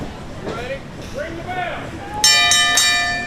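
Ring bell struck repeatedly at a WWN Proving Ground wrestling event, three loud metallic clangs in quick succession ringing out near the end after commentators speak.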